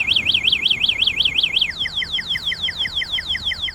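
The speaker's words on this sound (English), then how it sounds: "any theft attempts will be met first with a warning alarm, followed by the full alarm, which is very loud" A WAU X Plus e-bike's anti-theft alarm sounds loudly and alone, a fast warbling siren that rises and falls in rapid cycles, then shifts to a quicker chirping sweep pattern.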